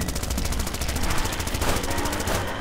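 Rapid automatic gunfire from shooting zombies in the game Zombie Driver, a dense rattling burst of evenly spaced shots that stays loud and continuous for the whole stretch, with no talk.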